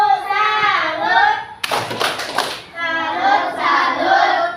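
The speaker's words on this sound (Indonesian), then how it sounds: "Kita tepuk salut dulu ya." Indonesian schoolchildren in a classroom perform the tepuk salut clapping chant, their bright voices chanting in rhythm around a burst of sharp, close hand claps in the middle, with child speech before and after.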